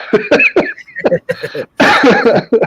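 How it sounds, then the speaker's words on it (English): A series of sharp, close coughs in quick succession, several bursts with brief pauses, loud and harsh. "I got a cough."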